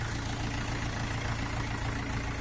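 A DZhinma 404 small tractor engine runs at a steady idle, close and even, with a regular low chugging pulse and no talk.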